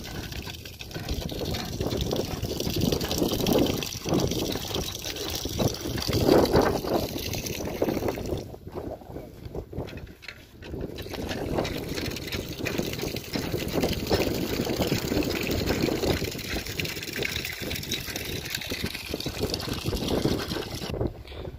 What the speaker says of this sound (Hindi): ये हैंड पंप यहाँ पे लगाया गया है